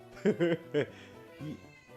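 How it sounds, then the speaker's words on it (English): A house cat meows at a door: a quick run of three drawn-out, nearby meows, then a softer fourth after a pause, over quiet room tone. "He will come meowing at that door"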